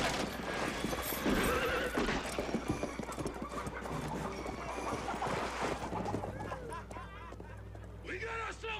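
A horse whinnies and its hooves clop along amid a busy, dense mix of other sounds and voices, with the neigh standing out near the start.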